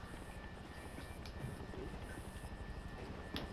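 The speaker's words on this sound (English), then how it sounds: "I have choppers bearing down on me too" Helicopters approach in Grand Theft Auto V, a faint, steady rotor and engine drone that holds evenly throughout with no voices.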